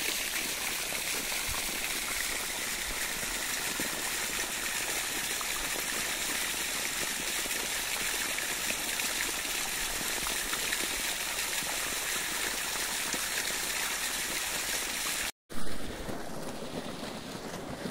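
Irrigation water pours steadily onto a lower farm field plot, a constant close rushing gush that runs unbroken, then cuts out for a moment before resuming.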